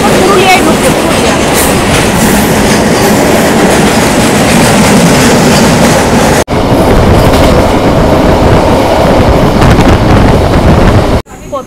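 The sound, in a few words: Kharagpur to Purulia MEMU train running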